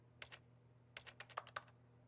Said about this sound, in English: Press N on your keyboard.